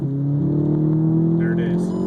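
Inside a VW Mk6 GTI accelerating hard, a loud, steady engine drone rises in pitch with a faint stuttering roughness of a misfire under load.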